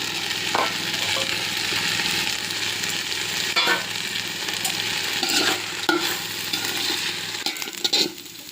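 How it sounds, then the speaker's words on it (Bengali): Rice and green peas are stirred and fried in a pan for pea pulao, giving a steady close sizzle broken by scraping stirring strokes, with no talking. "চালগুলো ভাজা ভাজা হয়ে গেছে।"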